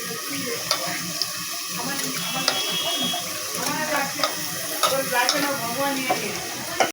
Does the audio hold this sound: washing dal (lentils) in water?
yes